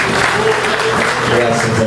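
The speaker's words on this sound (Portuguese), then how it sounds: "Dê uma forte salva de palmas para o Senhor Jesus" A church congregation gives a strong round of applause for Jesus during a Portuguese-language worship service, dense steady clapping that fills the whole moment with voices mixed in.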